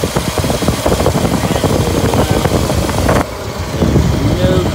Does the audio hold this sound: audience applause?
no